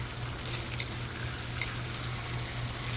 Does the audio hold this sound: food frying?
yes